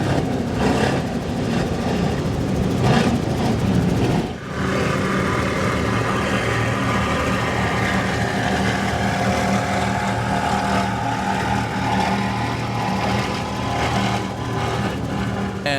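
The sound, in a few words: 46-foot Outer Limits powerboat with Mercury Racing 1075 engines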